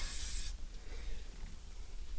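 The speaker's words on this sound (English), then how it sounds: "it's Pewterline silicone spray, and basically it protects absolutely everything" Pewterline silicone spray hisses onto a new Suzuki GSXS1000 motorcycle, one short close aerosol burst of about half a second, then quiet room noise.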